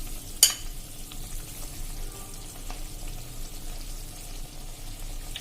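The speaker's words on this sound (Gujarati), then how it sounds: "આપણે અડધો કપ જેવો આપણે ચણાનો લોટ નાખી દેશું આ રીતે" Gram flour tipped into boiling water in a pan on the stove, a soft steady sizzling, bubbling hiss with a short sharp tap near the start, close and continuous with no voices.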